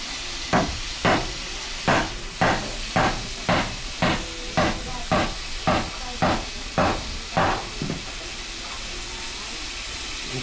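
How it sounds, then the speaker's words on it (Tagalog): Food sautés in a hot pan with a series of about a dozen rhythmic scraping stirs over a constant sizzle, evenly spaced and close, then the stirring stops and only the sizzle remains. "Ginigisa, oh."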